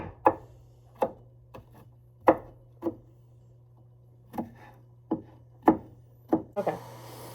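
A knife chops vegetables on a wooden board in slow, uneven single strikes, about ten crisp close thuds with pauses between them, over a low steady hum.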